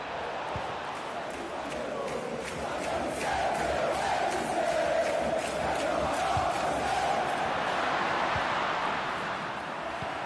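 A stadium crowd in a FIFA 23 match, Flamengo versus Al-Hilal in the Club World Cup semifinal, keeps up a steady roar of cheering and applause throughout, swelling slightly in the middle.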